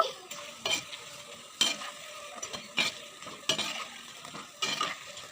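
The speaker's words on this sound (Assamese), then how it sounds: "এই পকৰিয়া গল্ডেন হৈছে আৰু অকণমান দেৰি ভাজিব লাগিব।" Steady oil sizzling and crackling of pakoras frying, with repeated scraping and stirring clatter from a utensil every second or so, close up.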